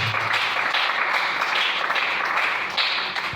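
A church congregation applauding to acclaim the Lord, a dense wash of many hands clapping together, steady and fairly loud, filling the room with no voices over it.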